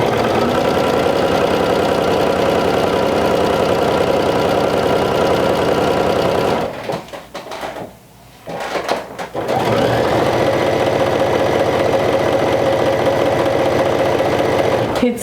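A sewing machine stitches a vintage jumper in rapid, loud, steady bursts, pausing for about three seconds midway before running on again at full speed.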